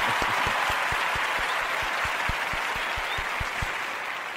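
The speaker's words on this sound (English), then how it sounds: "I'll give our cheesy hand clap," A single person claps hands in a steady, evenly spaced rhythm, about four claps per second, close and fairly loud over a constant background hiss, with no talking.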